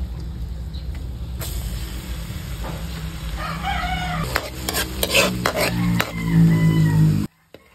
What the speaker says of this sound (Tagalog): At kapag nagmelt na yung butter, ilalagay mo na ang bawang.